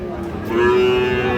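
A heifer calf moos at a cattle market in Faridpur, one long, loud, drawn-out call heard up close with no talk over it.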